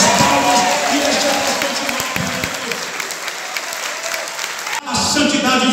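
Applause from an evangelical church congregation at an anniversary service fills the space, a dense sustained clapping that tapers slightly before a brief cut, then resumes with voices over it.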